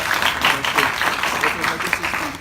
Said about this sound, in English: Everyone come on, let's give it a round of applause